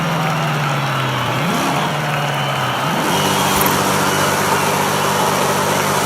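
A car doing burnouts in the Forza racing game, its engine droning loudly and steadily while the pitch climbs in two rising sweeps against continuous tire and engine noise.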